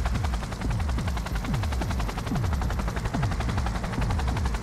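Sustained automatic gunfire in the Cyberpunk 2077 video game, a fast, dense, loud stream of shots that continues without a break, with whooshing and rumbling game effects underneath.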